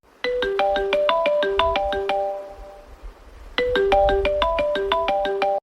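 A mobile phone rings loudly nearby with a bright melodic ringtone early in the morning. It plays, pauses briefly, then starts again with no one speaking.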